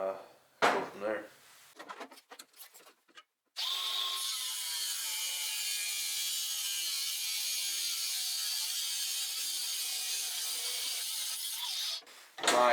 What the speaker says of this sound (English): I'm going to chop this off with the angle grinder quick